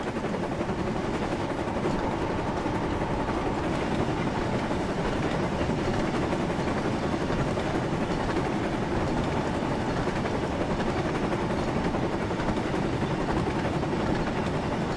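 A video game train engine throttles up to full power, giving a dense, steady rumbling drone with a rapid chugging texture that holds at an even, fairly loud level throughout, with no speech.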